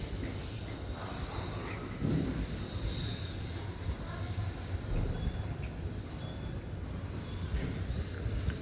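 A train passes on the tracks below, heard from a sixth-floor height: a continuous loud rumble of railcars with screeching wheel squeal riding on top throughout.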